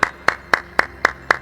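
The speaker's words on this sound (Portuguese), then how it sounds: "Eu comecei a bater palmas." Six sharp hand claps at an even, steady rhythm, close and distinct against a quiet background.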